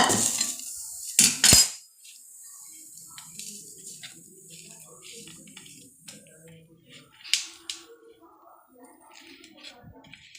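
Hot peanut chikki mixture is poured onto a plate and patted flat, opening with sharp metal clanks of utensil against dish, then softer scraping and tapping under a voice.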